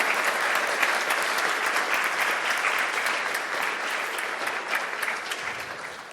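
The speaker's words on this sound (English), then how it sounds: "I think we need to have a huge round of applause." Audience at a 3D environment art panel for video games gives a sustained round of applause after a live demo, dense and even for about six seconds and tapering slightly at the end.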